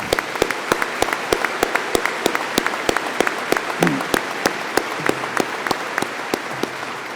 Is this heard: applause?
yes